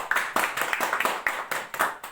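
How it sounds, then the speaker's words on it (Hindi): A few people clap together for a wellness company at a business gathering, about ten sharp, close claps in an uneven quick rhythm, with no voices. "एसलीपीएस वेलनेस प्राइवेट लिमिटेड के लिए एक जोरदार ताली होनी चाहिए"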